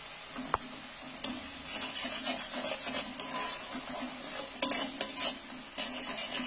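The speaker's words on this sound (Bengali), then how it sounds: "এবার আমি মশলাটাকে ভালো করে কষিয়ে নেব।" Spice paste fries in a pan for an egg and radish curry, with a spoon scraping and stirring in irregular strokes, light sizzling and occasional sharp clinks against the metal, close and clear with no talking.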